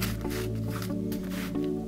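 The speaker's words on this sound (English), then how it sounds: "Scrub them with some hand soap." Resin model pieces being scrubbed with hand soap in warm water, giving close, wet squishing and sloshing rubs that repeat in short strokes.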